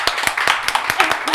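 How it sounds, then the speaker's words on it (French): A television studio audience claps in a vote for a contestant, a short burst of scattered, uneven hand claps under a loud hall ambience. "Marina, applaudissements."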